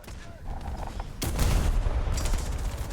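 Tank cannon fire in a World War II tank video game, a sharp loud blast cutting through the engine rumble, followed by a second heavy report and lingering roar.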